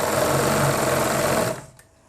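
Sewing machine stitching fabric for an umbrella palazzo, running in a loud, close, steady whir for about a second and a half before stopping.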